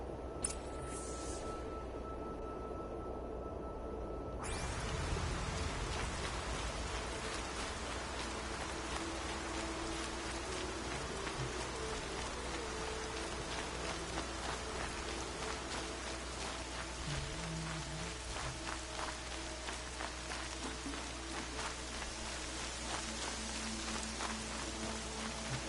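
Steady, soft video-game rainfall patters continuously on surfaces, an even hiss with faint drip detail and no voices, heard at a quiet, distant level.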